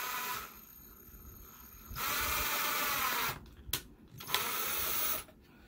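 A power drill driving a screw whirs in two sustained bursts of a couple of seconds each, with short pauses and faint clicks between them, close by, while installing IKEA Norrfly lighting.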